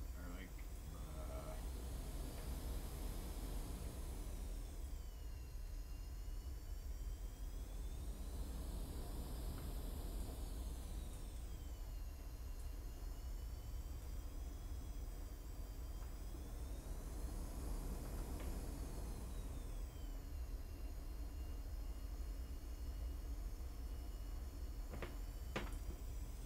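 Twin A-10 jet engines in the flight sim DCS World run as a steady, loud turbine roar with whining tones that slowly rise and fall, continuous throughout, with a voice talking over it.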